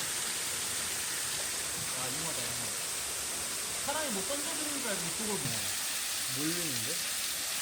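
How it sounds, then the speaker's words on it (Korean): Steady rushing water from an artificial waterfall fills the scene throughout, with people talking over it in the middle. "인공 폭포구나"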